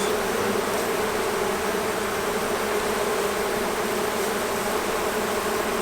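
A dense swarm of bees buzzes steadily and continuously around a drone, a close, unbroken droning hum with no pauses.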